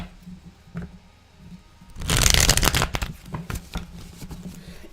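Tarot cards being shuffled by hand, a burst of crisp riffling and flapping bursts that starts partway through and continues in a few shorter rustles after a quiet stretch.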